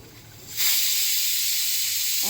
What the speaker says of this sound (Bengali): এই যে প্রেশার কুকারে ডাল দিয়ে দিছি, 2 সিটি হয়ে গেছে